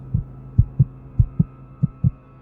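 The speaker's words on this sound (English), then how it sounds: "the rapid thump of my own heartbeat" A rapid heartbeat thumps seven times in a steady, quick rhythm. Each beat is a deep, close, muffled pulse over a low, quiet hum.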